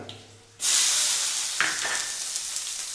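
Onion hits hot coconut oil in a pan for a Kerala payar curry, setting off a sudden loud, close sizzle after a brief quiet moment. The hiss holds steady, with a small stirring scrape partway through.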